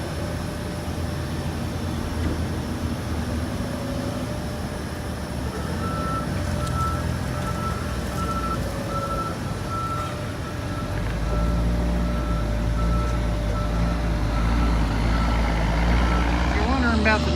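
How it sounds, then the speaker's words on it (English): Heavy coal trucks roll past on a road, producing a continuous loud diesel rumble that swells further partway through, with repeating reversing beeps and a voice in the mix. "About the noise, I'm in an area where a bunch of coal trucks have been coming through."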